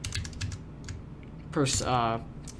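Quick, light clicks of a computer keyboard being typed on, faint and close, with a person speaking briefly partway through.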